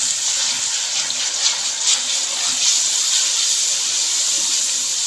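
Steady hissing rush of water, loud and close, continuing without pause, as water is poured into a hot karahi pan of chicken with ground garam masala, sizzling.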